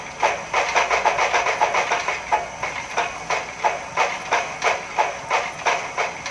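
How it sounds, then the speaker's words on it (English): Model steam locomotive with a Tsunami2 steam decoder plays a wheel-slip effect: rapid, evenly pulsing chuffs in quick succession, fairly loud and steady throughout with no talking. "you'll hear the wheels break loose, and then the engineer will back off the throttle"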